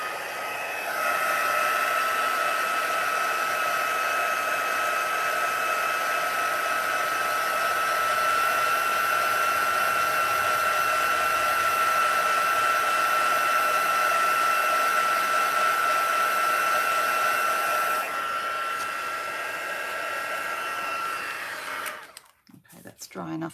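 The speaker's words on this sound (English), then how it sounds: "We can give it a bit of a help with a heat tool, which is right here." A heat tool blows hot air to dry craft work, a steady close whirring hiss with a high whine that runs unbroken for about twenty seconds and then cuts off, followed by brief handling clatter.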